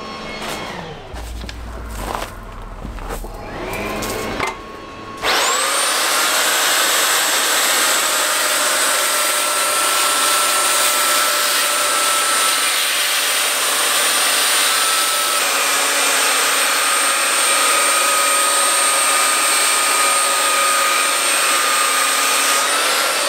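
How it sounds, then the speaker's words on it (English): Some brief clattering handling noises come first, then a power sander starts up and runs loudly and steadily, close by and alone, sanding down the sides of a metal sword build. "I might do that with the sander"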